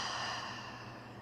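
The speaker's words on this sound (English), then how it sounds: "deep inhale, followed by a long releasing exhale" A deep, breathy yoga exhale at the close of a seated practice, a single long airy release heard close up and fairly soft, with no talk.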